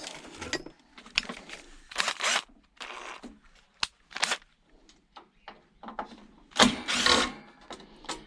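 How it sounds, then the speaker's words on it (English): Screws are backed out to take an outside cover off, with bursts of ratcheting, whirring driver sounds separated by short pauses and small clicks, close and fairly loud. "I want to get the outside cover off actually. So, let's do that."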